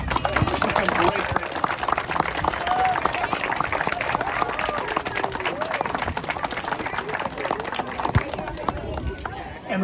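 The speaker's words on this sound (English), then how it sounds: "I want to give Michelle an amazing round of applause." Loud, steady applause from a large crowd at a playground ribbon-cutting ceremony, continuous clapping with scattered voices and cheers mixed in.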